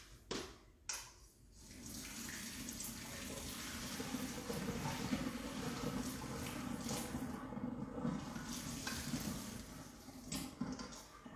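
Cooked angel hair pasta water draining from a pot through a colander, a steady, soft rushing pour that runs for several seconds after a couple of clanks, fairly faint and alone.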